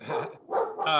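A dog barks twice in quick succession, close by and loud, with a whiny, yelping quality to the barks.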